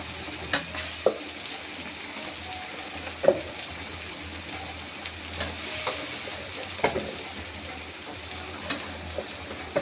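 Small soybean chunks fry in a pan, a soft steady sizzle broken by sharp scraping stirs and knocks of the spatula every second or two, close and moderately loud, with no talking.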